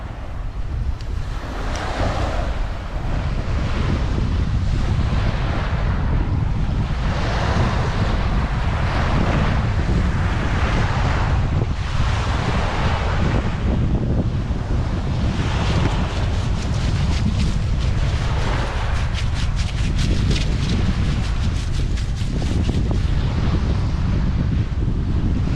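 Strong, steady wind roars across a microphone on the Gulf of Carpentaria shore near Weipa, a loud continuous buffeting rush with surf washing underneath throughout.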